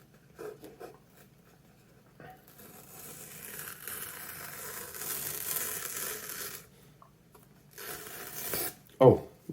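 A cardboard tear strip is pulled along an Apple iPhone 15 Pro box to open it without a knife, a quiet extended rasping rip that builds steadily and ends with a brief louder scrape.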